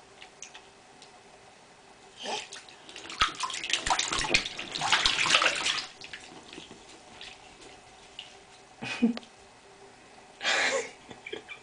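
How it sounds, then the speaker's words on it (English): A young child splashes water in a bathtub, with scattered sloshes and a louder cluster of splashing in the middle, then a few separate splashes later, close by in an echoing bathroom. "Splash water everywhere."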